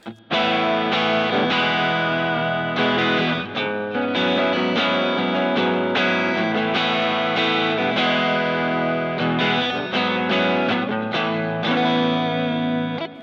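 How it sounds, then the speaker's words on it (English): A distorted electric guitar through a Kemper drive stomp box plays chords and riffs with a crunchy, driven tone, loud and close, with no talking. "We can enable the Stomp Box B, which is just a Kemper drive."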